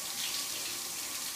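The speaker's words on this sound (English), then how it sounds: "I'm going to just get my EnviroCloth wet with water," Tap water runs steadily into a sink to wet a Norwex EnviroCloth, a continuous close hiss with no pauses.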